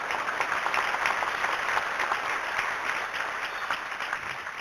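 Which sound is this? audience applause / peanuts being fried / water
audience applause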